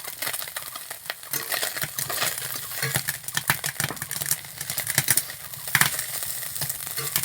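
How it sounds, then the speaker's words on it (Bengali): Small freshwater fish fry in a pan with green chillies, a steady crackling sizzle broken by frequent sharp clinks and scrapes of a spatula stirring, close and fairly loud with no talking. "মাছটা কত সুন্দর এই যে ভাজা ভাজা হচ্ছে।"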